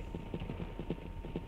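Horse hooves clip-clop in the PS1 game LSD: Dream Emulator, a steady, evenly spaced run of soft thuds repeating about five times a second at moderate level, with no talking.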